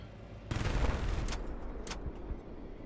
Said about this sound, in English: Since you will hear a lot of this shooting